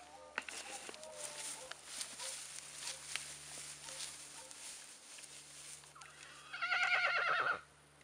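A horse being let loose into a fenced paddock gives a loud, shaky whinny near the end, after a stretch of quiet outdoor rustling and soft movement.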